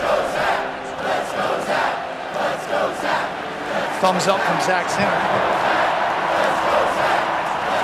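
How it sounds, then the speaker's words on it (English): Football stadium crowd at a Michigan Wolverines game cheering in support of an injured player, a broad sustained roar filling the background under an announcer's commentary. "Crowd's getting into it here to support him."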